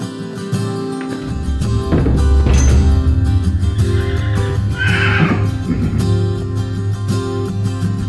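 A young foal whinnies loudly and repeatedly on a farm during late-summer weaning, with shrill neighs rising over a steady low hum.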